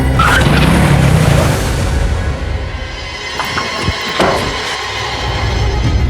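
A car pulls over and brakes to a halt on the road, a brief tire squeal and skid over steady engine and road noise, close and fairly loud, then settling into a low idle.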